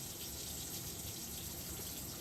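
Rinse aid being poured into the dispenser hole of a dishwasher, a steady quiet hissing trickle of liquid with no break, faint and close.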